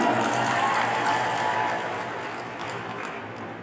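A workshop audience in a hall applauds in a dense, steady wash of clapping that gradually fades over a few seconds.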